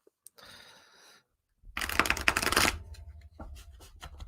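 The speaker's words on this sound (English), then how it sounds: "It's got a good shuffle." A quick riffle of playing cards being shuffled up close, a dense burst of flicking lasting about a second, followed by softer handling clicks.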